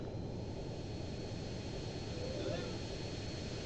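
A large airplane takes off in GTA San Andreas, its engine a steady, loud broadband roar that holds for several seconds with no break.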